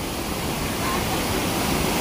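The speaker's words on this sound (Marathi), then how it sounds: "तो पूर्ण वरून पडतो, थोडासा तिकडून पडतो, तर पाण्याचा फोर्स खूप असतो" Steady, dense roar of a Konkan waterfall pouring into a stream, close and continuous broadband rushing with no pauses.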